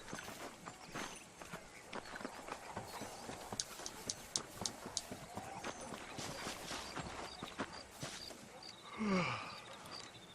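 Hooves clip-clop in a steady walking rhythm in Red Dead Redemption, close and clear over quiet background ambience, with a brief horse snort near the end.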